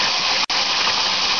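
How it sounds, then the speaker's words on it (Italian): Water gushes steadily from a kitchen tap into a pot, a loud, continuous broadband rush with one brief cut-off midway, no talking. "Esce, poi esce l'acqua."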